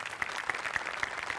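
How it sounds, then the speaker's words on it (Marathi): Studio audience applause on a comedy show, a short burst of clapping from a crowd that holds steady, close and moderately loud. "तुझ्या मेकअपसाठी एकदा टाळ्या."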